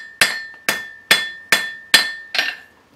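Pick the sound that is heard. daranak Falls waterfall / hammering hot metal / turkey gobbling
hammering hot metal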